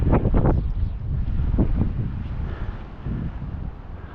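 Wind buffets the microphone in loud, rumbling gusts, a continuous low roar with bursts of harsher blasts.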